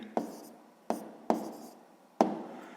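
A pen or chalk sets down a sixth-grade math ratio solution in four sharp, separate strokes that start crisply and fade, close and alone in a quiet room.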